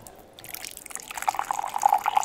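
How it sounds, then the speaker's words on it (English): Warm water pours from a jug and trickles into a container, soft at first then building with bright splashing drips, close and fairly quiet. "I will pour my water first"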